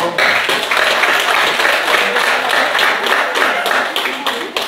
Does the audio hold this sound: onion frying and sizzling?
no